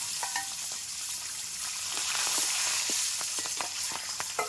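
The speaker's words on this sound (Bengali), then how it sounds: "কাঁচা লঙ্কাটাও আমি ভেজে নেব।" Green chilies and whole garlic cloves fry in hot oil with a continuous close sizzle and scattered light crackles and stirring taps, alone without speech.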